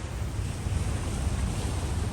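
Fast-flowing water rushes past a riverbank in Switzerland, a steady, close, broadband roar with some wind buffeting and no voices.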